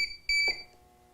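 An APC BE650G1 UPS running with no mains power gives two short, clear electronic beeps close up, the second slightly longer, then quiet.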